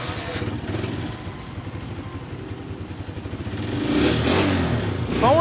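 A 2022 model Honda 125 motorcycle engine idling with a steady low putter, then revving louder toward the end, close by, with someone talking over it.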